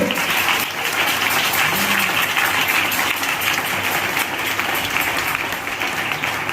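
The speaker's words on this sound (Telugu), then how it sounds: "గట్టిగా చప్పట్లు కొట్టండి." Loud, sustained clapping from a church congregation during a Sunday service, a thick continuous roar of hands with no pause.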